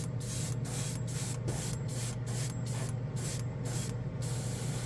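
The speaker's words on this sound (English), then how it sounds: "You can hear the compressor coming on because I'm holding the air down." A hobby airbrush blows plain air to dry metal color paint on a miniature, a constant close hiss broken by brief regular gaps as the trigger is held, with a compressor humming steadily beneath.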